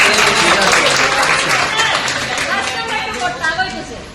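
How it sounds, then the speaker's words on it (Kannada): A travel group cheers as a Char Dham pilgrimage wraps up, with steady clapping mixed with loud crowd chatter and voices throughout, close and busy. "ಅವರು ಕೂಡ ನಮ್ಮ ಕಡೆಯಿಂದ ಒಂದು ಚಪ್ಪಾಳೆ."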